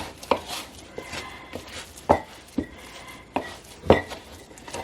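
A utensil cuts and knocks into gluten flour dough in a bowl, giving about seven sharp, close taps and scrapes at an uneven pace with no talking.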